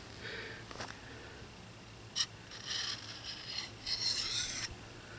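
A knife blade is sharpened on a whetstone held at an 11-degree angle, faint rasping strokes repeating irregularly, close and quiet with no talk.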